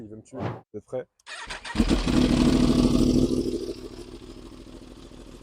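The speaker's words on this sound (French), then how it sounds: "On peut leur faire un petit démarrage peut-être pour écouter le bruit" A 2019 Yamaha R1 sport motorcycle fires up close by after brief talk, its engine catching with a loud burst and settling into a rough, rumbling idle that slowly quietens.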